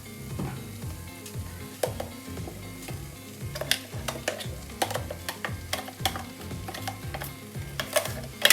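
Paste stirred into sautéed onions sizzling in a clay pot while a utensil stirs and scrapes, producing irregular clinks and taps over a constant frying hiss.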